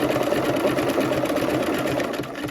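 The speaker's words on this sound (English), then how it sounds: "I'm just going to go ahead and go as slow as I need to, stitching around that edge" A sewing machine stitches along a fabric edge, a steady, loud mechanical whir with rapid needle chatter that runs without pause.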